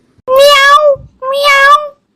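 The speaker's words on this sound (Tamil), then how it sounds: "அக்கா வெளியே பூனை வந்திருக்குன்னு நினைக்கிறேன்" A cat meows loudly and close by, twice, each cry lasting about half a second with a short pause between them.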